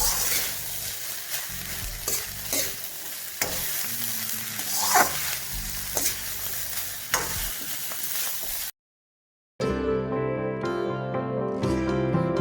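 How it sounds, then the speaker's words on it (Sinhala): Chicken fried rice is tossed and stir-fried in a hot pan over high flame, a close crackling sizzle punctuated by sharp scraping clanks of the spatula, with a brief silence near the end before more frying. "මේක ඇත්තටම කරන්නේ මේ බත් එක හොඳට බදින එක."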